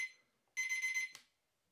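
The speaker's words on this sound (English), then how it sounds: "we just heard the alarm go off on this Braun BC21 digital wireless" Braun BC21 digital wireless charging alarm clock sounding its alarm: a fast, evenly pulsed electronic beeping in one burst of about half a second, fairly loud and close, cut off abruptly and followed by quiet.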